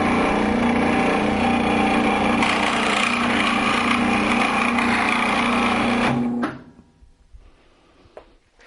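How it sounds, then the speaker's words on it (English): Whirlwind scroll saw with a safety brake running and cutting wood, a loud, steady buzzing whine for about six seconds that stops abruptly, followed by faint handling sounds. "plug in the scroll saw, we have the same safety features for our scroll saw as well. So let's try a cut."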